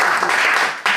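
Audience applause for a jazz band concert, a dense, steady wash of many hands clapping close by that dips briefly near the end and then surges back.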